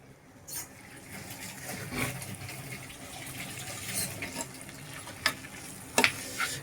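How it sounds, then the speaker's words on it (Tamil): Brinjal pieces fry in oil with a low, steady sizzle, joined by a few soft stirring scrapes and clicks and some sharper knocks toward the end. "எண்ணெயில் நல்லா கத்திரிக்காய் ஃப்ரை ஆகணும்"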